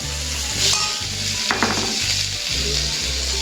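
Spice powders hit sautéed onion and tomato in a pan for a kakka (clam) curry, giving a steady close sizzle with stirring scrapes throughout.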